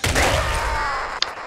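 Explosion in the video game Nuclear Throne, a loud, close blast that fills the clip with a rumbling roar and crackle, ending with a brief sharp pop.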